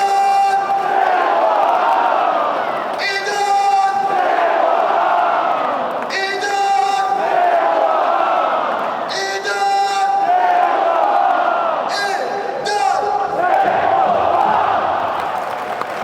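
A football stadium crowd chants a goal scorer's name in loud, repeated rhythmic waves of massed voices, heard at a distance with brief bursts of sharper shouting between the chants.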